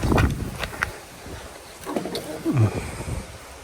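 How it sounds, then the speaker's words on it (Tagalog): Strong wind blows outdoors at a rural home site, rumbling in low gusts with broadband rushing noise that swells and eases over a few seconds, with no speech. "malakas pa din yung hangin dito sa kanilang lugar hanggang ngayon"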